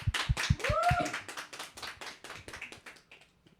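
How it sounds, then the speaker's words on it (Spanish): Hands clap in an audience for about three seconds after a farewell on a Catholic talk program about the Eucharistic liturgy, a mid-sized group applauding close by and then tapering off into a few scattered claps. "la despedimos con un fuerte aplauso"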